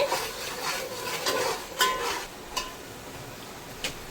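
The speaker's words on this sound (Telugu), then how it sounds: "వెల్లుల్లి పేస్ట్ ఎంత బాగా వేగి వేగితే అంత మంచి ఫ్లేవర్ వస్తుందండి అందుకని బాగా వేగనివ్వండి" Garlic paste frying in a pan for basmati biryani, a soft, steady sizzle under repeated scraping strokes of a spoon against the metal, a few sharper clinks standing out, with no one talking.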